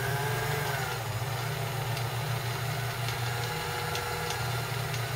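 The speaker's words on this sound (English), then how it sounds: "Then the wheel can spin and wind the bobbin without the rest of the machine cycling." A Kenmore 158.14000 sewing machine winds a bobbin with the hand wheel disengaged, giving a steady, continuous motor hum and whir close by, with faint periodic ticks and no talking.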